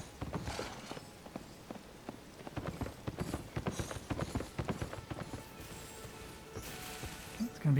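Horse hooves clip-clop in Elden Ring, a rhythmic series of fairly close hoof strikes on hard ground that builds and fades over several seconds, with some ambient game sound beneath.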